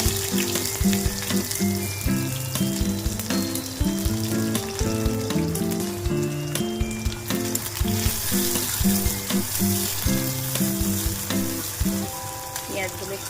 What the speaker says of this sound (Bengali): কড়াই তেল গরম হয়ে গেছে, একটা পেঁয়াজ আমি কুচিয়ে রেখেছিলাম দিয়ে দিলাম